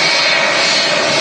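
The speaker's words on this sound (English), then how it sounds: "We've got the Air Baltic A220 on the taxi out too" Air Baltic Airbus A220 jet taxiing out at Manchester Airport, its engines giving a loud, steady whine and roar close by, with no talking.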